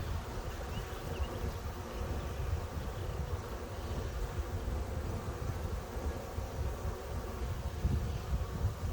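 Honey bees hum inside a hive in a continuous low, droning buzz that stays steady and close throughout, with no talking over it.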